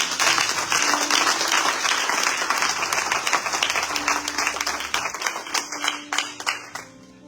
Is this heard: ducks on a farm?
no